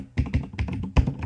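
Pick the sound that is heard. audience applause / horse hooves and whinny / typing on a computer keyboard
typing on a computer keyboard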